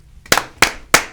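Three sharp, crisp group claps land in unison at an even count, each a single loud burst separated by short silences.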